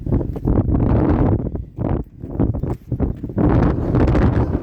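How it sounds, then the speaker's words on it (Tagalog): Strong gusts of wind buffet the microphone in loud, uneven bursts with brief lulls between them, close and rumbling. "Oh, mahangin talaga."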